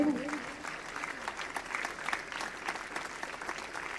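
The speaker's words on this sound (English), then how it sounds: "Please carry on clapping." An audience at a school's annual sports meet claps continuously, a brisk crowd of hands rising and falling slightly in strength, with a voice briefly over the start.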